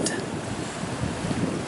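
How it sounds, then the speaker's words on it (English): Cool wind blows outdoors in the sun, a steady broadband rush buffeting the microphone for a couple of seconds, with no voices. "slightly cool wind"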